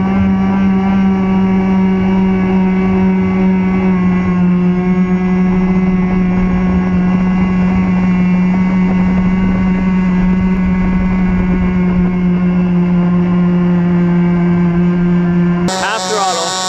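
Gas-powered RC catamaran speed boat, a 48-inch Rockstar, at full throttle, a loud sustained high-pitched engine whine holding steady for many seconds before cutting off near the end.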